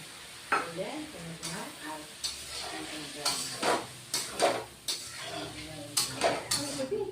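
Spice masala with ridge gourd and potato being sautéed and stirred in a pan, with repeated scraping strokes of a spoon against the metal over a steady sizzle, close up.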